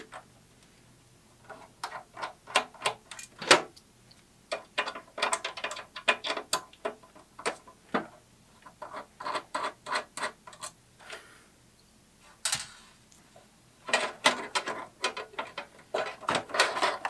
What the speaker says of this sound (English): I need to flip over to a Phillips bit to get these screws out